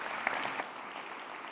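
Audience applause at a smart and sustainable mobility awards ceremony, a brief burst of steady clapping from a crowd that fades slightly toward the end, with no talking over it.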